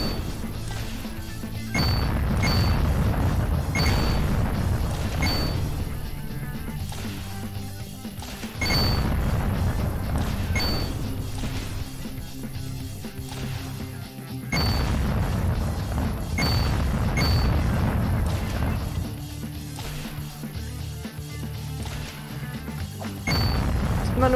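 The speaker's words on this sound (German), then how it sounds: "jetzt kann ich schießen" Gunfire and explosions in the shooter game Seraphic Destroyer, heavy booms and crashes repeating in bursts with brief pauses, loud and close throughout.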